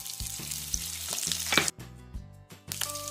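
Curry leaves and mustard seeds with cumin hit hot oil for a carrot fry, bursting into loud crackling spits and sizzles in uneven surges, close and without speech.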